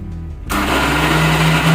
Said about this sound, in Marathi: चिकन मिक्सरला ग्राइंड करून घेऊया, म्हणजे याचा बारीक किमा करून घ्यायचा आहे आपल्याला